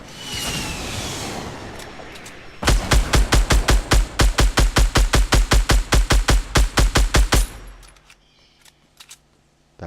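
Gunfire in a battle royale video game: a rapid, evenly spaced burst of about twenty loud shots lasting several seconds, close and alone, after a rushing whoosh and before a quiet tail.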